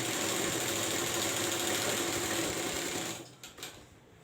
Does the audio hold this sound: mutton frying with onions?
no